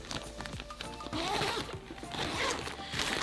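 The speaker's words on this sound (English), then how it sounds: "the neat thing is you can zip it up" A zipper runs closed on a quilting project bag, a few rasping pulls close by over steady background, with no one speaking.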